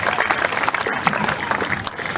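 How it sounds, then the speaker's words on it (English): A crowd at a county fair alligator show claps in a short burst of applause, brisk scattered hand claps filling the moment, with some voices mixed in. "How about a big round of applause for our alligator, folks?"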